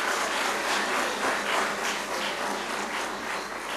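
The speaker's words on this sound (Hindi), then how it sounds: "जोरदार तालियों से।" An audience applauds loudly at a book launch for a Chhatrapati Shivaji Maharaj book attended by former President Ram Nath Kovind. The dense, continuous clapping swells slightly in waves and fills the whole moment.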